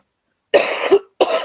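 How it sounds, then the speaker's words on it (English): A stuffed-up streamer coughs twice, close to the microphone: a longer double-pulsed cough, then a short second one after a brief pause. "I apologize that I keep coughing."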